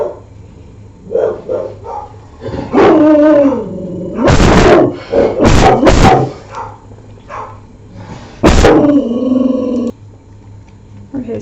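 A dog barks loudly and close by in several sharp bursts, mixed with throaty growls and excited yelps, with pauses between outbursts.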